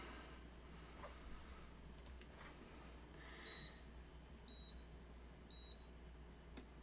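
A pressure cooker gives several short, high electronic beeps in a steady pattern over a constant low hum of background noise, with no one talking.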